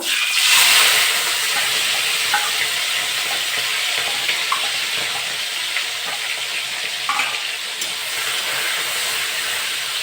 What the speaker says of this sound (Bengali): চিংড়ি মাছটা আমি ভাজা করে নেব।